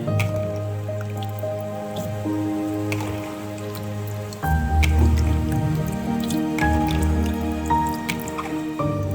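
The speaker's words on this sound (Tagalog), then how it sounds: "Now after 15 minutes you have to drain it. Put in the strainer." Soaked wild blackberries being drained in a strainer, with water dripping and trickling steadily, wet squishing of fruit, and a brief louder pour partway through, close and fairly quiet.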